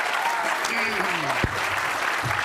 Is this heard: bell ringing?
no